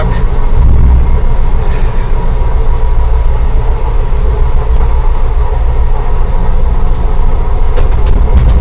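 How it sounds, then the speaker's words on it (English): A heavy automatic truck engine drones loud and steady while driving, a dense continuous low rumble with rattling over it and a few faint clanks near the end. "Very easy to drive this truck."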